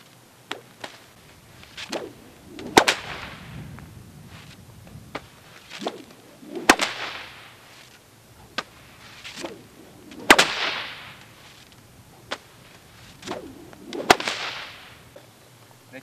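A stockwhip cracks repeatedly with sharp, loud snaps at irregular intervals, each preceded by a whooshing swing through the air, heard alone in an open, quiet setting.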